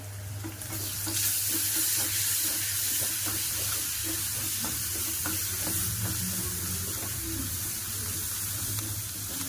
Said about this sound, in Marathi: हिरव्या मिरच्याची पेस्ट आणि अद्रक टाकून छान मिक्स करून घेते